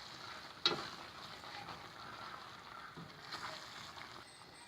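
A spoon stirs potato and peas gravy with dried fenugreek leaves in a pan, giving faint scraping and soft sizzling with one sharper clink early on, quiet and close.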